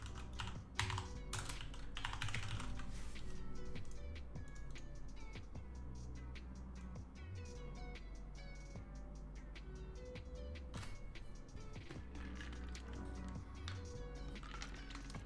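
Fingers type on a computer keyboard in quick, uneven bursts of soft, close clicks and taps over a steady low hum, with no talk.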